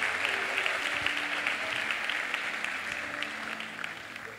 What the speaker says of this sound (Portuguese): você pode dar um aplauso aí no seu lugar